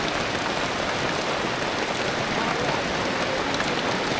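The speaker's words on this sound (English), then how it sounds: "It's raining." Rain falls steadily at a home construction site in a remote area of the Philippines, an even, unbroken hiss of drops on surfaces that stays constant throughout.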